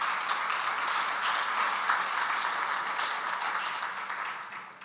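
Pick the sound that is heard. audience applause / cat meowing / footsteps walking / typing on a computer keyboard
audience applause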